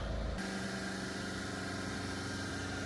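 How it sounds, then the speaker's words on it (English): A camper van engine steps up from idle into a higher, steady revving drone with a constant mechanical hum. It sounds close and even throughout, and no one speaks. "Let's bring those revs up."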